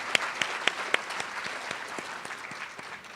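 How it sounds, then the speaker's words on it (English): Applause from an audience at a senior summit, opening with a few sharp, distinct claps that settle into a thinner, scattered patter of clapping, fairly quiet and fading toward the end. "give Donna Boston another big round of applause"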